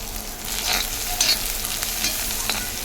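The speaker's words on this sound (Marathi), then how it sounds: "परतून घ्यायचा कांदा जरा." Chopped onion sautés in oil with garlic, curry leaves and mustard seeds, a steady close sizzle with soft stirring scrapes throughout and no voices.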